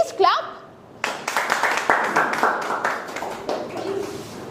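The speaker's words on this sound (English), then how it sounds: "At least clap." An audience claps in a burst of uneven hand claps in a classroom setting, with voices talking over and around the clapping.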